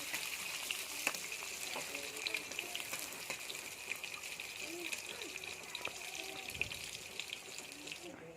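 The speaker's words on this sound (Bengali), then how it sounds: "পেঁয়াজটা এবার ভাজা হচ্ছে।" Onion frying in a pan for a chicken curry makes a steady, faint sizzle and bubbling hiss, with scattered soft clicks of stirring throughout.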